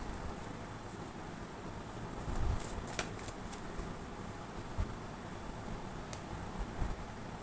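Tarot cards being shuffled, soft quiet riffles and flicks with a few sharper card snaps spread over a faint hiss.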